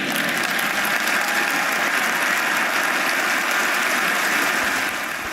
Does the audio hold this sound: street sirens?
no